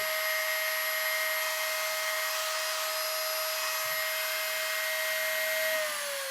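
A PowerCare rotary tool motor running at high speed while resting on a towel, a steady high-pitched whine with a constant buzz that begins to wind down at the end, with no talk.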